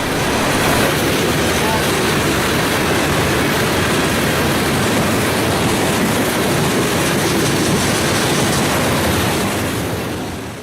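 Q551, a mixed freight train on the Fitz line between Atlanta and Waycross, Georgia, passes close by in a loud, continuous wash of rumbling wheel and rail noise that holds steady for the whole stretch and eases slightly at the end.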